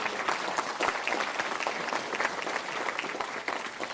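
An audience at a school essay award event applauds steadily, a dense, even patter of many hands clapping throughout.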